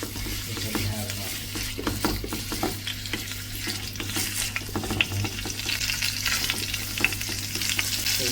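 Beef strips sizzle and fry in a hot pot for stew, a steady crackling hiss broken by scraping stirs and occasional pops, with no one talking.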